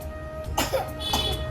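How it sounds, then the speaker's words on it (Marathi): A couple of short, raspy coughs close by, over a low steady background hum. "एवढा खोकला झाला तुला"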